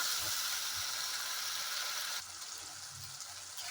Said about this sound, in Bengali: এবার মশলাটা ভালো করে কষবো, যতক্ষণ মশলা থেকে কাঁচা গন্ধ না বেরিয়ে আসে।